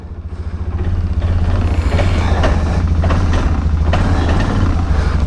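A Suzuki King Quad ATV engine runs loud and close, a steady throbbing rumble that swells slightly in the first second and then holds even, with no voices over it.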